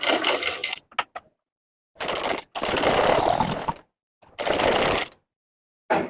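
Sewing machine stitching piping onto the neckline of a size 36 princess-cut blouse, three bursts of fast whirring stitches separated by short pauses, close and alone.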